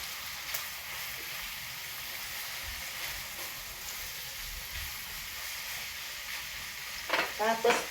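Bitter melon (ampalaya) and beef stir-frying in a pan, a steady close sizzle throughout with brief stirring scrapes and clatter near the end.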